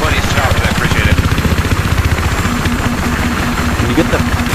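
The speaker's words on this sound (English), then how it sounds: "Can you get the chopper over the airfield?" Helicopter rotor chopping in Battlefield 3 multiplayer on Wake Island, a loud rhythmic thudding engine drone that runs throughout under players talking.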